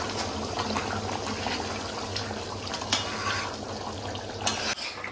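Water pours and splashes into a pot of mutton curry on the stove, a steady close trickle with faint clinks of cookware and a soft clatter near the end.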